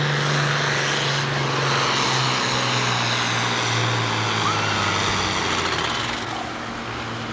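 John Deere 4010 tractor roaring at a 1989 tractor pull, a loud sustained engine drone with steady low tones that fades slightly at the end, no voices over it.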